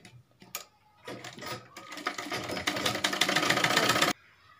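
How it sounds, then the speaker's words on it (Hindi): A sewing machine stitches a double seam on palazzo trousers, a stuttering start that builds into a loud, fast, steady run before stopping abruptly, with faint noise after. "ऐसे इसके हम डबल सिलाई कर लेंगे"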